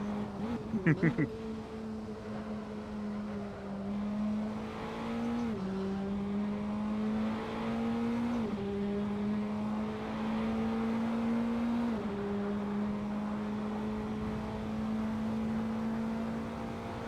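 A Praga R1 race car's engine in Assetto Corsa at Vallelunga classic, a sustained buzzing drone that steps down in pitch at each gear shift, with a brief rattling burst near the start.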